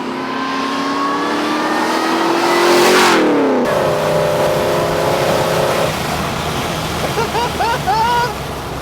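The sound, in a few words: boosted Holden Kingswood engine revving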